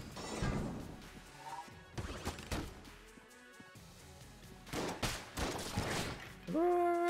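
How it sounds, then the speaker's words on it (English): Shotgun fire in the video game Enter the Gungeon comes as several loud, punchy blasts in irregular bursts, mixed with other crashing game effects and a rising electronic tone at the end. "Just get destroyed by my shotgun"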